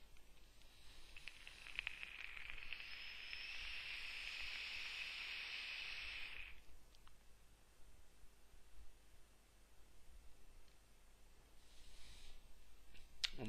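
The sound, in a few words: vapour hiss from vaping on a RedFire atomizer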